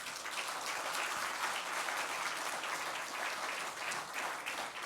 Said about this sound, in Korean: 여러분 박수로 환영해 주시 바랍니다